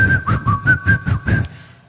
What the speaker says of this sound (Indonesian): keren siulnya